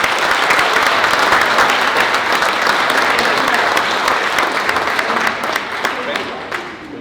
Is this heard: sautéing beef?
no